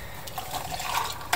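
Hot chocolate is poured over a kitchen sink, a soft liquid splashing and trickling with a few small clinks, close and moderately loud.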